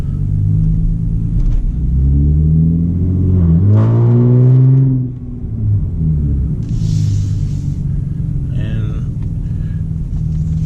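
Hyundai Genesis with muffler and resonator delete exhaust pulling away gently from a stop: a loud, close low rumble rising briefly in pitch, then settling back to a deep idle drone.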